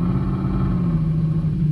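A SoundRacer gadget plays a simulated car engine, a loud, steady low rumble that holds at an even idle throughout with no voices over it.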